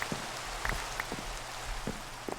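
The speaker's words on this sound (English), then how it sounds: "let's go ahead and skip the night since it's raining" Rain falls in the Minecraft modpack Enigmatica 2 Expert, a soft continuous patter with scattered louder droplet ticks, fairly quiet and with no talking.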